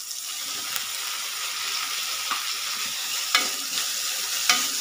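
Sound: thuthuvalai leaves and tomato sautéing in a pan

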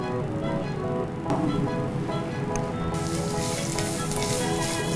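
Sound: stir-frying Bentong ginger in a pan

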